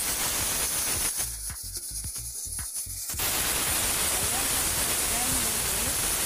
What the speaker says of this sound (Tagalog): nag-start na siyang mag-whistle ang ating pressure cooker